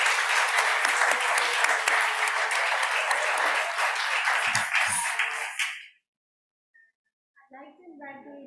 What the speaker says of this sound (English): I would want, again, a round of applause for Barbados.